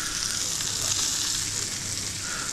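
Red onions sizzling in olive oil in a pan: a steady, even crackle and hiss that holds for the whole stretch, close up and with no talking.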